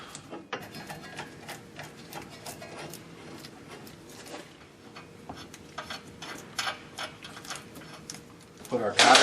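A ratchet tightens the outer tie rod end nuts into the spindles on a 1965-70 Mustang during a Flaming River rack and pinion install, giving quiet, steady mechanical clicking with scattered metallic ticks and light handling noise.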